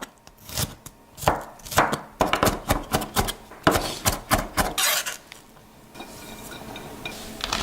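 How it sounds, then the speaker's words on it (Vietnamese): Rapid knife chopping of shallots on a cutting board, a quick run of sharp close taps followed by a softer stretch of quieter scraping. "Cắt hành tím và băm nhỏ ra."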